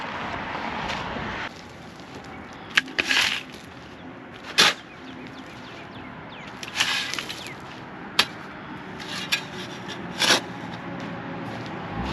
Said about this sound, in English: First thing we got to do is shovel a whole bunch of gravel into buckets.